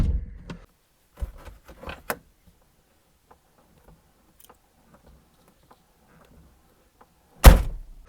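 A few handling clicks and rattles, a long quiet pause, then a restomod Lotus Elan's passenger door shuts with one solid, close thud.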